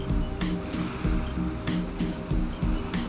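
Ocean swell surging and washing onto a sandy beach, a steady loud roar of surf with repeated hissing bursts as each wave breaks, with no voices.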